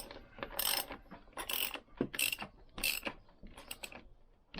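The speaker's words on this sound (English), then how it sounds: "I just need to tighten that to pull the Christmas tree through." Bolt being tightened with a ratchet to pull a Christmas tree through a Lambretta scooter engine during a rebuild: repeated close ratcheting clicks in bursts, each stroke a quick mechanical rattle, with no talking.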